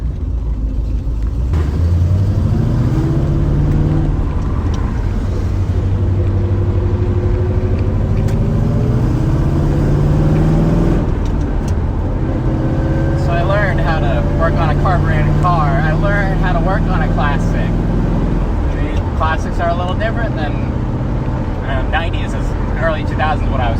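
A 1979 C3 Corvette L82 V8 with a four-speed manual and carburetor, driving with loud low engine rumble that rises and falls through gear changes, a voice talking over it throughout.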